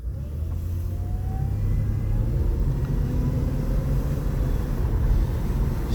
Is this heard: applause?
no